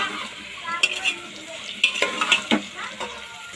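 Chopped tomatoes with a spoonful of salt are stirred and fried in a pan for pav bhaji, with a soft sizzle broken by several clear scrapes and clinks of the spoon.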